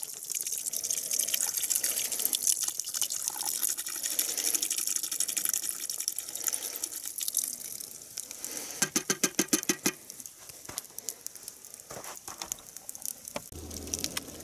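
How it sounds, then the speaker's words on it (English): A whole can of beer glugs and splashes into a campfire stew pot holding vegetables, bacon, beef and onions, a steady pouring trickle that turns into spattering drips toward the end, close by with no talking. "Next ingredient to go in, can of beer. The whole thing."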